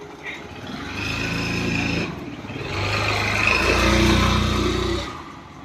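A vehicle drives and turns, its engine droning and rising in two long surges separated by a brief dip, close and fairly loud, with no speech.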